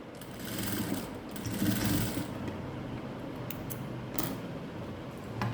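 A sewing machine stitches fabric in a steady, continuous mechanical whir with a fine rapid rhythm, moderately loud and close, with a few brief clicks and no talk.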